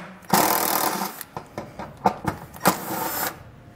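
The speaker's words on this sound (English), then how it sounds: "You're going to use an 8mm socket to remove those." An 8mm socket on a ratchet or driver removing bolts from a 2015 Lincoln MKX during trailer hitch installation, a quick burst of whirring followed by a series of sharp clicks and clunks, close and loud.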